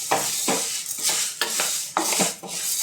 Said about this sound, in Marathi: हांगा सद्या मूग भाजून घेता